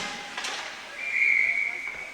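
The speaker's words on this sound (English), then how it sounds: "we'll get a whistle here with an offside" Referee's whistle at a hockey game called for offside, one clear sustained blast lasting about three-quarters of a second over arena crowd noise and faint talk.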